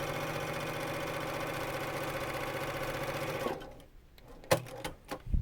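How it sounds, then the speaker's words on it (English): A sewing machine stitching across the bottom seam of a purse, a steady close mechanical whirring hum that stops partway, followed by a few handling clicks and thumps. "I'm going to go ahead and sew across that bottom one"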